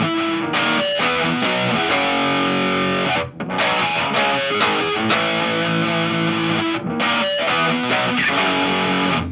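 A riff on a distorted electric guitar, chunky palm-muted notes with short choppy stops and brief gaps, played twice through, loud and upfront.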